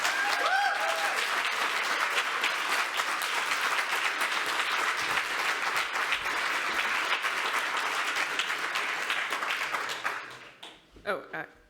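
Sustained applause from a conference audience welcoming keynote speaker Eileen Uchitelle at a Rails event, a dense, steady wash of clapping that holds loud for about ten seconds before tapering off into scattered claps.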